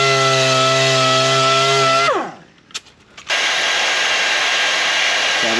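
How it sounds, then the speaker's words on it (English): A heat gun blows steadily and loud while warming a dented plastic car body panel for auto body repair, its whine dropping away as it switches off, followed by a few soft knocks and then a steady, broadband rush. "we've got to use the heat gun, because it has a bump right there"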